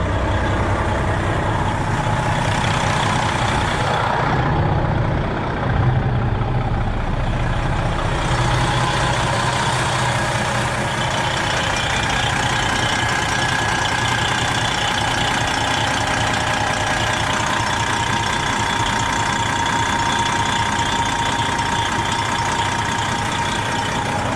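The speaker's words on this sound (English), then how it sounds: "I'm gonna go start the truck." A Detroit Diesel 12.7 Series 60 engine in a Freightliner truck idles with a steady, loud rumble that continues unchanged throughout, with no talking.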